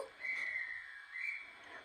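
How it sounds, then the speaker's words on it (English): A thin, high electronic whistle from a Bachmann Class 350 model train sounding twice in quick succession, faint and toylike. "We've got the whistle."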